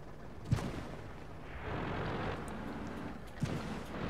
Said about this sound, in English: A lot of tanks shooting at where they think I am